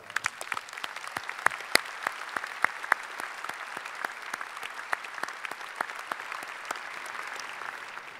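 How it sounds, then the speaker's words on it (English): Audience applause at a spring college convocation honoring graduates' academic achievements: a steady, moderately distant wash of many hands clapping, with sharper individual claps standing out, sustained evenly throughout. "Let's recognize all these academic achievements with a round of applause."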